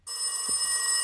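Inside a horror video game, a telephone bell rings one continuous, close and bright trill of about a second, with a faint voice-like murmur beneath it.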